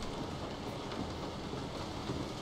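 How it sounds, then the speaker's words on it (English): Steady rain falling outside in the horror game Resident Evil 7, a dense, even hiss of drops that holds at constant level throughout, with no voices. "Oh, it's raining outside too?"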